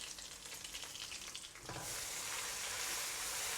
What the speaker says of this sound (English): Now we'll fry them until the oil separates from the rempah.